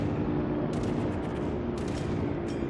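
Dense, continuous rattling of ship anti-aircraft guns firing at a torpedo bomber squadron in World of Warships, aboard the cruiser Chapayev, a steady loud barrage with sharper bursts layered over a constant roar.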